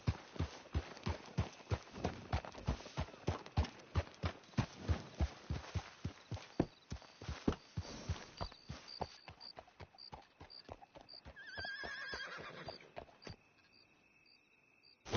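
Horse hooves clip-clop at a steady walking rhythm in Red Dead Redemption 2, many even, fairly loud footfalls that slow and thin out toward the end, with faint chimes and a soft ambient hum behind them.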